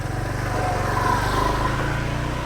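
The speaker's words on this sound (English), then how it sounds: "I can hear a motorcycle coming." Motorcycle engine on a street in Chiang Mai, Thailand, a steady mid-pitched drone with low rumble that swells slightly as it draws nearer, continuous throughout without speech.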